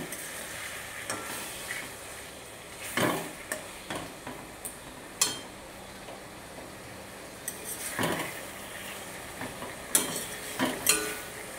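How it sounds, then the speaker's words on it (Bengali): Chopped tomatoes, three large ones, stirred into fried ginger, garlic and onion in a pan for an egg dish, with a quiet background sizzle and intermittent scraping and clinking of the spoon against the pan, no talk. "এখন আমি ঢেলে দেব 3টি বড় সাইজের টমেটো কুচি দিয়ে আবারও ভালোভাবে নাড়াচাড়া করে নেব।"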